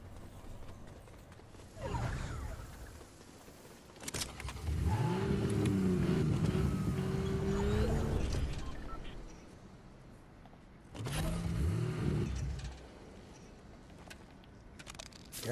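Car engine in the Fortnite video game, revving and accelerating in two bursts, a longer swelling rev mid-way and a shorter one later, with rising and falling pitch over quieter game ambience.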